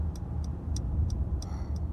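A car's turn signal ticks during a right lane change on a Seoul expressway, a steady, even rhythm of six quick clicks over a low, rumbling engine hum inside the cabin.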